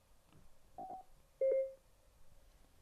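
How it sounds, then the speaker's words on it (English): A couple of soft tones, then a single clear electronic beep from a phone paired with a Cardo Scala Rider Freecom 4 intercom rings out briefly in a quiet room. "Tap the intercom and phone buttons together and wait for your phone to beep."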